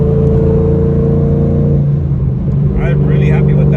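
Steady, loud low drone from a cam-swapped fifth-generation Chevrolet Camaro engine cruising on the freeway, a constant cabin hum with a brief dip near the middle, and a voice speaking over it toward the end.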